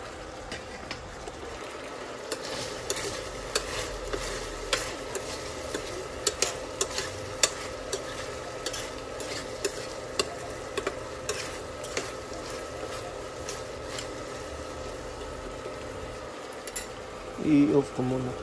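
Chicken gizzard adobo sizzles steadily in a pan while a utensil stirs it, with occasional scraping clicks over a continuous frying hiss, heard up close.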